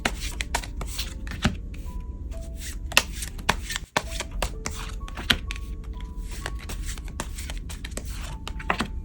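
Tarot cards are shuffled by hand in quick, irregular bursts of riffling and flicking, close and crisp, continuing throughout with no speech.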